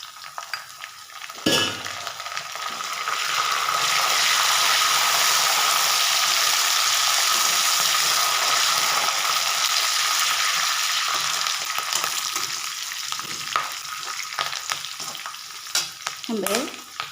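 Onions, red and green chillies and curry leaves fry in hot oil for lemon rice, a steady close sizzle that swells and holds through the middle, with occasional stirring clinks and scrapes near the end.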